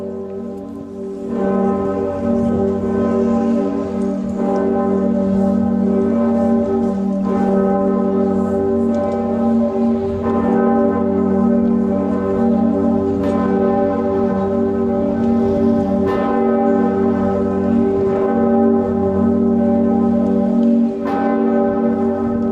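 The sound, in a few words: Pretiosa bourdon church bell, Cologne Cathedral, cast 1448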